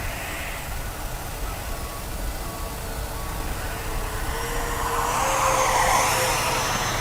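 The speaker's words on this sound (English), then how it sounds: "full flaps are in, Steve. Drop them all. Power's coming back. See if I can come by slow-ish" Arrows Hobby MiG-29 Fulcrum 64mm electric ducted-fan RC jet making a slow pass with full flaps and reduced power, a steady whooshing fan whine that swells louder as it draws near toward the end.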